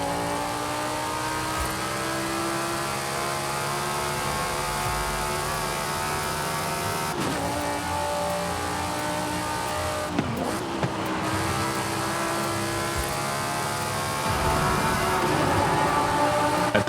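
An Audi R8 driven in the racing game Forza Horizon 5, its engine note rising and falling steadily and loud through gear shifts, with brief tire squeal and a few abrupt transients partway through, and no talk.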